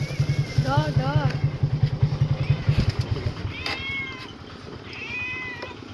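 A cat meows repeatedly, rising and falling calls close by, over the steady chug of an idling motorcycle engine that fades partway through.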